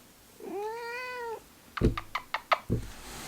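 A domestic cat gives one drawn-out, rising-then-falling meow, followed by a quick series of sharp knocks or taps close by, with no talking.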